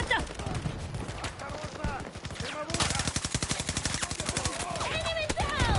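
Rapid automatic gunfire in Battlefield 2042, dense bursts of close shots rattling in quick succession, with a sustained stream of fire in the second half and a voice speaking underneath.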